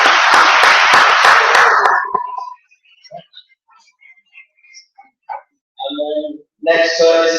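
Round of applause at a student JCR meeting, a couple of seconds of dense clapping from a room of people that stops abruptly, followed by scattered small noises and then talking.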